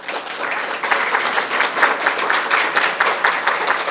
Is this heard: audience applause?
yes